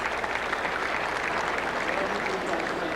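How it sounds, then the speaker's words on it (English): A tennis crowd at the 2002 US Open applauds steadily after a third-round match between Seles and Cho, with a dense, even wash of clapping throughout. "And a well-deserved round of applause."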